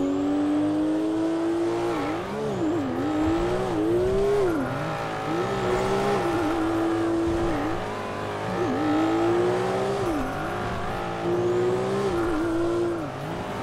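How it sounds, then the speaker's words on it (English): A loud car engine in the video game GTA 5 revs continuously, rising and falling in pitch with repeated acceleration swells, dominating the whole clip. "The car is very loud right now"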